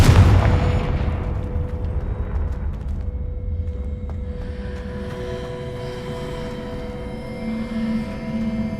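A Confringo blasting spell explodes in the Hogwarts Legacy video game with a loud, deep boom at the start, followed by a long rumbling decay and lingering resonant ringing tones as the blast echoes away.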